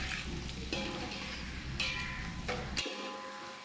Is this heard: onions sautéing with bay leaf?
yes